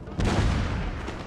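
An artillery battery firing in Napoleon: Total War, heard as one heavy boom followed by a rolling low rumble and a fainter second report about a second later.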